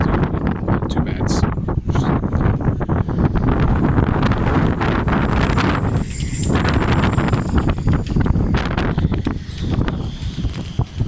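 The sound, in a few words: strong wind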